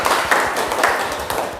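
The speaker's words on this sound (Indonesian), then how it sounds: "Mari tepuk tangan dulu." A school class claps their hands in a mathematics lesson, a steady patter of many hands with a few louder rhythmic claps standing out, close and lively for under two seconds.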